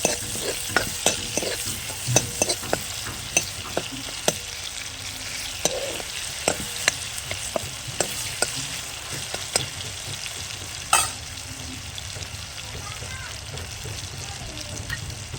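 Tomatoes frying with salt in peanut oil, a continuous sizzle punctuated by frequent sharp stirring scrapes and taps of a spoon against the pan.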